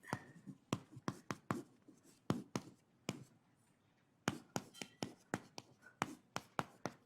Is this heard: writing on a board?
yes